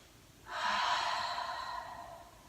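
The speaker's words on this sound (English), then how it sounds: "Take a nice deep breath." A long, steady breath drawn deeply during a yoga foot-release session with a ball, a soft airy rush lasting about two seconds, close and alone in a quiet room.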